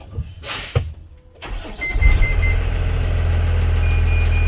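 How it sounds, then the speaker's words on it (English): A few clicks and rustles, then a school bus engine cranks and catches, settling into a steady, loud diesel idle with the air compressor running and faint beeps in the background. "when I start the bus, my air compressor is turned on"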